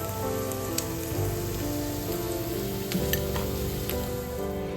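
Sliced onions fry in hot oil in a pan, a steady dense sizzle with occasional pops and crackles, close and unbroken throughout.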